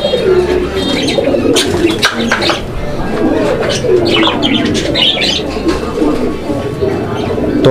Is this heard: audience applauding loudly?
no